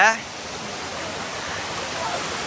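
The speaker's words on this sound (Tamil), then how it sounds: "பாருங்க ஸ்லோவாக தண்ணி வந்துட்டுருக்கு அழகா" Water flows slowly down a forest stream during a trek through the jungle. It makes a steady, broadband rush that holds even throughout. A voice speaks briefly at the start and again near the end.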